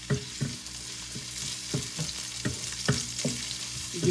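Garlic and onion sauté in a pan, a steady sizzle broken by regular spatula stirring strokes about every half second, close and alone.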